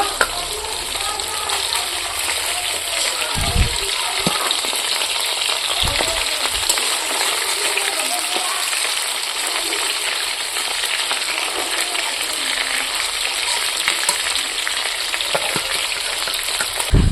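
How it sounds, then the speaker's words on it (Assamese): Koi fish (climbing perch) fry lightly in oil with a steady, dense sizzle that continues throughout, broken by a few low knocks and clatters of utensils. "এই মাছখিনি মানে অকণমান লাইটকৈ ভাজি লৈছোঁ"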